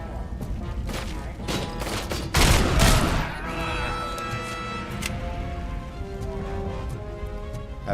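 Gunfire from a weapon with infinite ammo in the RoboCop: Rogue City game, a rapid volley of shots peaking in a loud burst early on, then fading into game sounds and music.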